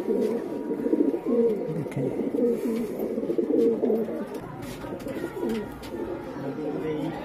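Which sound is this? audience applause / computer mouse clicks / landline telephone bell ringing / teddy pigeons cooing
teddy pigeons cooing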